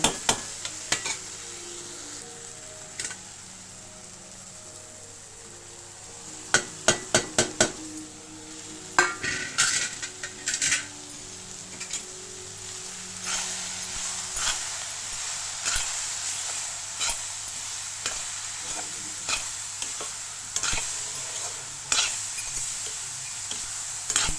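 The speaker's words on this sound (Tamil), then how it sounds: "தக்காளி நல்லா வதங்கிட்டு கொஞ்சம் காளான சேர்க்கலாம்" Mushrooms go into a pan of sautéed tomatoes, bringing a soft steady sizzle broken by sharp clatters and scraping of a spoon stirring against the pan, close and busy throughout.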